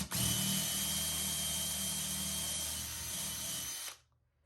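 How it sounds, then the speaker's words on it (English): Power drill counterboring holes in a wood mount for a box fan being converted to a ceiling fan, a steady close whine running for about four seconds before stopping abruptly. "now I just want to counterbore these guys"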